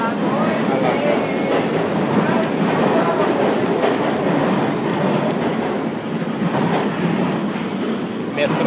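A New York subway train rumbles and clatters loudly and continuously, with a dense, roaring wash of wheel and carriage noise and voices of passengers talking underneath.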